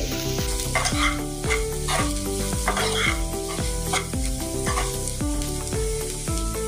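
Bitter gourd sabzi stirred in a pan with salt just added, a steady close sizzle of frying beneath repeated scraping strokes of the spoon, with music playing throughout.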